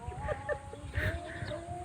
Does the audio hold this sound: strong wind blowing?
no